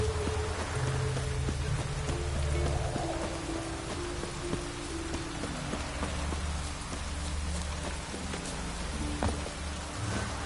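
Steady rain pours down in The Witcher 3, a dense continuous hiss with droplets pattering on surfaces, accompanied by a low ambient drone from the game world and no voices.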